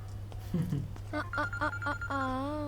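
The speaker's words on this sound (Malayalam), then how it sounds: "എന്റെ ഫോൺ അടിക്കുന്നുണ്ട്." A mobile phone rings with several short repeated tone bursts followed by a longer warbling tone, heard over a steady low hum after brief speech-like sounds at the start.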